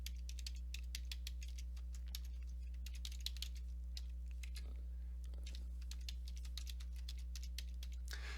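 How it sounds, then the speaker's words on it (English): Rapid, irregular keystrokes clatter on a computer keyboard, quiet and close, over a steady low electrical hum with a couple of brief pauses. "I'm going to type itinerary, first day of work."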